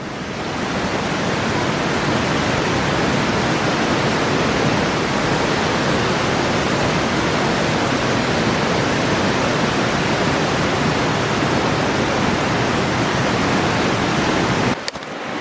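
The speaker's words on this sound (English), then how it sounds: "It was incredibly loud over by the falls." A loud, steady roar of rushing water from a waterfall in the Rockies, filling the whole clip with dense, unbroken noise before it cuts off at the end.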